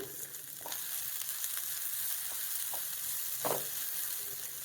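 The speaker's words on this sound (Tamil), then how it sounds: "இதுவும் ஓரளவுக்கு நல்லா வதக்கிடுங்க." Grated coconut sautéing in a pan for peanut chutney, a steady close sizzle with a few soft scraping stirs scattered through, no voices.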